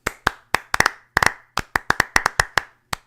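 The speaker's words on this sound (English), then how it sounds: "Have a golf clap." A lone pair of hands gives a slow, sparse golf clap, about a dozen crisp, close claps at an uneven pace, some doubled, with silence between them.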